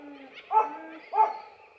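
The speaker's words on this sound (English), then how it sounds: "Bloody dogs." Dogs bark twice, close by and fairly loud, two short separate woofs with a brief pause between them against quiet surroundings.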